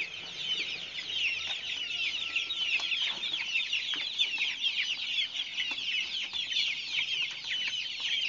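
One-month-old KUB chickens cluck and peep continuously as a busy flock, with high chirps overlapping steadily and at fairly close range.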